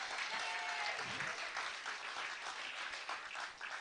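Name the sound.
applause for an MC at a live street broadcast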